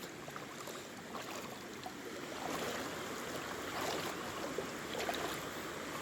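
A waterfall rushes in a continuous broad roar, its flow suddenly risen, swelling a little louder partway through and holding steady to the end.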